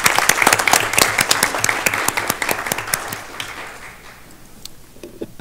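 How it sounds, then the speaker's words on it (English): Applause at a school board of education meeting, a modest crowd clapping in sharp, distinct claps that thin out and fade to near quiet near the end. "Another round of applause for our unsung hero."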